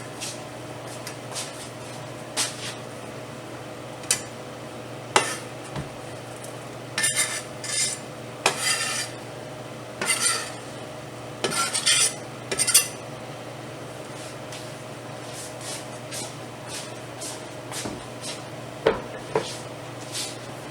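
A spoon stirs food in a pot of Thanksgiving jook, scraping and clinking against the metal in irregular bursts, with busier knocks in the middle, over a low steady kitchen hum.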